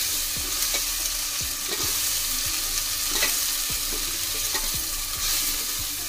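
Biryani masala frying in hot oil in a pan, a steady sizzle under repeated scraping strokes of a spoon as it is stirred and mixed, close and continuous with no talk.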